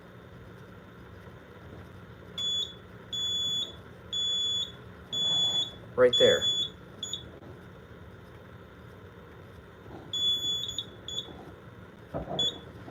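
A Simplex 4005 fire alarm panel sounds its alarm in a series of repeated high electronic beeps, several pulses in a row with pauses, then another burst later, with brief handling noise in between and a short spoken phrase.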